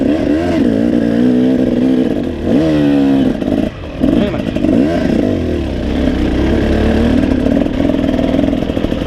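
A loud, close KTM 300 two-stroke dirt bike engine revs up and down repeatedly with rising and falling pitch, a steady rasping drone between the revs.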